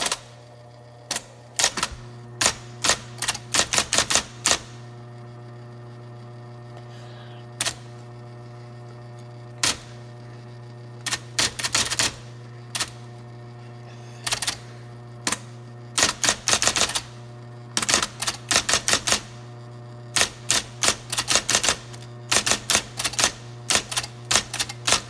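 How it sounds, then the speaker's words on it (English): Electric typewriter typing: bursts of sharp, close key strikes in quick irregular clusters separated by pauses, over a constant low electrical hum from the machine. "this is an electric typewriter, so yeah, there's gonna be a little bit of a noise"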